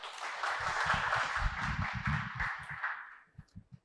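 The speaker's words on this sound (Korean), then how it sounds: "박수로 맞아주시기 바랍니다" An audience at an indoor book talk on startup investment contracts claps in a dense burst of applause that holds steady for a few seconds, then thins to a few scattered final claps.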